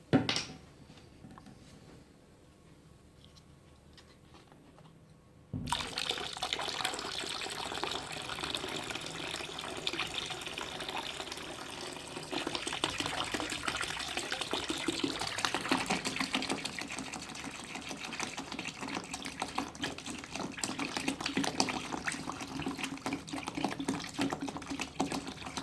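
Water glugs from a bottle into a homemade liquid hand sanitizer mixture, a steady continuous pouring that starts abruptly after a quiet moment and runs on, close and fairly loud.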